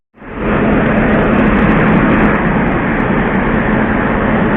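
The Bihar Sampark Kranti SF Express, hauled by a Kanpur-shed WP7 locomotive, gives a loud, steady, broad rumble that starts abruptly and holds without a break.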